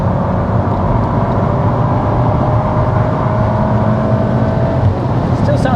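A Volkswagen Golf R Mk8 engine on a racetrack drones steadily with a rough rumble through the standard exhaust, loud and continuous throughout, holding a fairly even pitch.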